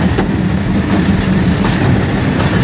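A small passenger train at the Howrah Rail Museum rolls along its tracks. Heard from on board, it makes a loud, steady rumble with faint rhythmic clicks from the wheels, and no one speaks.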